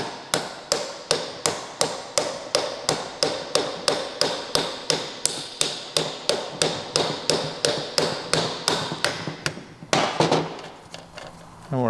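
Vespa P200e axle shaft being driven out of the scooter engine with repeated hammer blows, about two dozen sharp, evenly spaced metallic strikes close up, followed by a brief scraping clatter.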